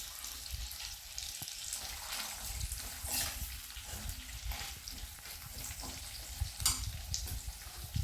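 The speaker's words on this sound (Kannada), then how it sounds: "ಈರುಳ್ಳಿ ಮತ್ತು ಬೆಳ್ಳುಳ್ಳಿ ಹಾಕಿದ್ದೀನಿ. ಇದಕ್ಕೆ 1 ಸ್ಪೂನು ಜೀರಿಗೆ ಹಾಕ್ತಾಯಿದ್ದೀನಿ." Onion, garlic and cumin seeds fry in a pan, giving a steady, fairly soft sizzle throughout with occasional stirring scrapes and no voices.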